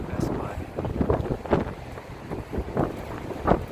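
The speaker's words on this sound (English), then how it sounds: "The wind just follows you no matter where you go." Gusty wind buffets the microphone on a San Francisco city street near Market and South Van Ness, in loud, uneven bursts, with a person talking amid the rumble.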